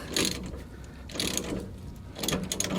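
Hand ratchet snugging a rear shock absorber nut on a GM OBS truck with Bilstein shocks, three short bursts of rapid clicking with brief pauses between, close and fairly quiet.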